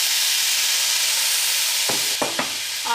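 Oil sizzles steadily under ginger garlic paste in a pan, a close, continuous hiss. Near the end, a few short scraping knocks of stirring sound as tomato goes in.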